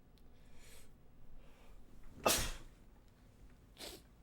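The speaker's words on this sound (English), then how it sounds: "I felt the sneeze coming. I had to stop." A single sharp sneeze bursts out close to the mic in a quiet room during a gaming session, preceded by faint breathy inhales and followed by a soft exhale.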